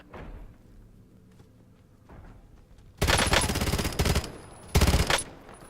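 Video game gunfire crashes in with loud bursts of automatic fire around the three-second mark, then a second sharp burst near the end, following a quieter stretch of low rumbling and faint thuds.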